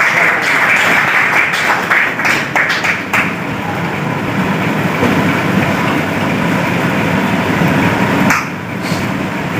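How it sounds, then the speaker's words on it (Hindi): An audience at a monthly Hindi poetry gathering claps to welcome a poet: loud, dense, sustained applause for nearly ten seconds, easing briefly near the end and then rising again. "तालियों से स्वागत कीजिए।"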